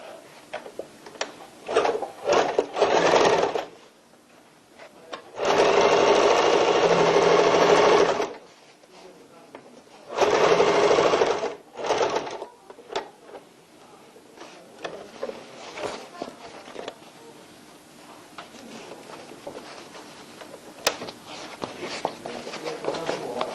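A sewing machine stitches the side seam of a tote bag in three bursts, a short stuttering run, then two steady whirring runs, each close and loud, separated by quiet handling noises.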